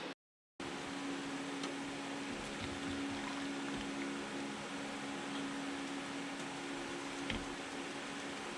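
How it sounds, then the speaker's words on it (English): Hot pickling liquid pours steadily over beets in jars, a soft continuous wash of liquid with a faint low hum in the background, lasting several seconds after a short silence at the start. "So now we're going to pour this hot liquid over the top of them and seal them up"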